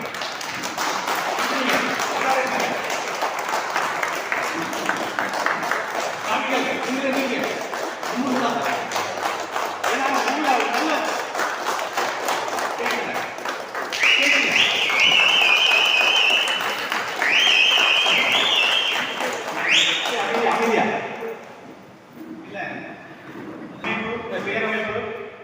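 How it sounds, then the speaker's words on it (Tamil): An audience at a gathering applauds in sustained, dense clapping that lasts most of the stretch, mixed with speech and crowd voices before it fades near the end. "மிகப்பெரிய கைத்தட்டோட இருக்கணும்"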